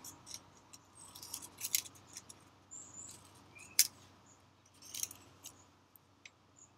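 Scissors snip a series of close, narrow slits into a paper feather, producing faint, quiet crisp cuts at an uneven pace over a soft room hush.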